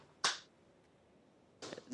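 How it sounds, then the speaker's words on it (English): Two sharp hand claps serve as a gavel, about a second and a half apart, close and crisp against a quiet room with no talking. "You can just clap your hands for the gavel, go ahead."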